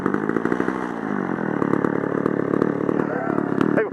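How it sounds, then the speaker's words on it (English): A motorcycle engine revving high and running steadily, loud and close, with a continuous buzzing drone throughout. "Kind of high RPM and engine slow"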